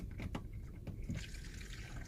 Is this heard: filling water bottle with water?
yes